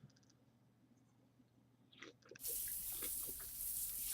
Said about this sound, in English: The warm water of the shower, which normally felt so nice, seemed to be burning through my skin